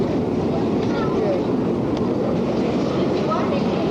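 A Soviet subway train runs in 1991, a steady loud rumbling roar of wheels and carriage with faint squeals, constant throughout from inside the car.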